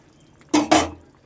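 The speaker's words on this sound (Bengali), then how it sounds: "এবার একটু নেড়ে দিচ্ছি।" Potato, pointed gourd and soybean curry stirred in a pan, giving two quick clattering scrapes of a spoon against the metal, close up and otherwise quiet.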